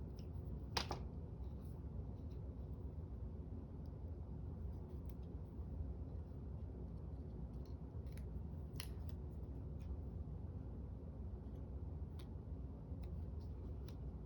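Scissors trim paper for a handmade Christmas card, a few faint isolated snips scattered across a steady low background hum, each cut brief and close.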